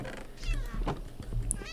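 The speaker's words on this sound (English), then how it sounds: "Cat is dying, but I can't do anything." A cat in the Minecraft 1.21 video game meows several times in a row, clear and fairly close over a soft background hum.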